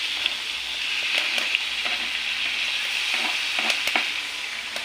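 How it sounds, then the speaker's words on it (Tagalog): A kilo of meat sautés with browned garlic for dinuguan, giving a steady, fairly loud hiss and sizzle with scattered light scrapes of a spoon stirring in the pan. "ay pwede na natin igisa ang ating isang kilong karne. Ayan na mga lods, igisa na natin."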